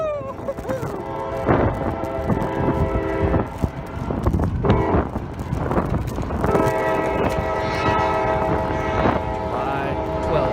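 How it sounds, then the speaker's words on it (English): A train passes close by with a loud blaring horn that sounds in long sustained blasts over heavy rumbling and rattling, with people talking excitedly underneath. "Race the train!"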